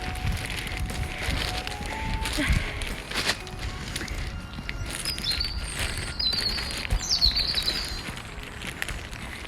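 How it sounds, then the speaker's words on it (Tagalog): Small birds chirp faintly here and there over a noisy outdoor background, with scattered brief tweets standing out toward the end. "Narinig yung mga ibon guys"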